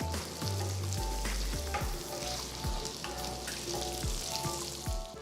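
Cumin seeds crackle and sizzle in about two tablespoons of hot oil in a pan, a dense close frying hiss punctuated by repeated sharp pops and utensil knocks, with no speech.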